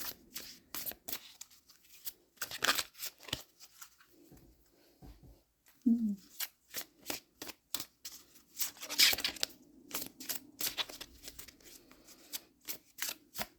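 A deck of cards is shuffled by hand in quick, crisp riffles and flicks that come in uneven bursts, close and fairly soft, with short quiet gaps between them.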